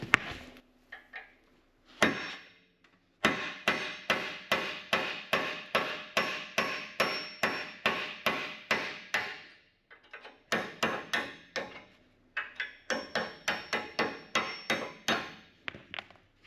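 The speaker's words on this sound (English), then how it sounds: "Bent pretty bad, so we might have to get the big hammer." Big hammer pounding a bent skid steer snow blade, long runs of loud, evenly spaced metallic blows in rapid rhythm, broken by short pauses, close and without speech.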